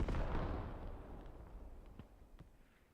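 Mortar rounds land near a radio in a military video game: a loud explosive impact fades into rumbling, followed by a few fainter distant blasts, with no voices.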